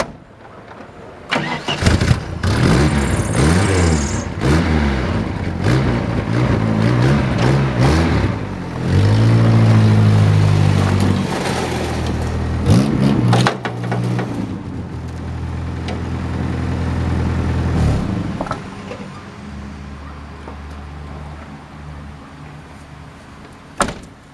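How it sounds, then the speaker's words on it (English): A 1988 Dodge Dakota engine cranks, fires up and revs hard while pulling out a heavy vehicle loaded with wheel weights. The loud surges give way to a lower, settling idle toward the end. "I'm going to use the 88 Dodge Dakota and see if I can pull it out."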